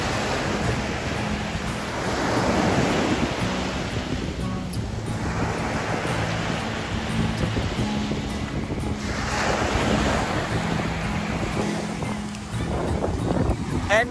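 Ocean waves wash onto a beach at sunset in a steady, loud surge and hiss, swelling and easing in slow cycles with heavy wind buffeting the microphone and no clear voices.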